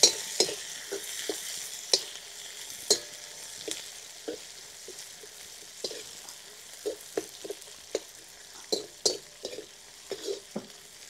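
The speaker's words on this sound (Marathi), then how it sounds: "उभा कापलेला कांदा, हिरवी मिरची, छानपैकी परतून घ्यायचे।" Sliced onion and green chili frying in a pan with steady sizzle, overlaid by repeated sharp scrapes and knocks of a spoon stirring against the pan, close up and without voices.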